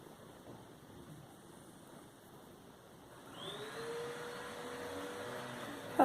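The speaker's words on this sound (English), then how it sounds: "Apologies if you can hear the vacuum in the background." A faint vacuum cleaner hums in the background, growing a little louder partway through as its motor whine rises, with no talking.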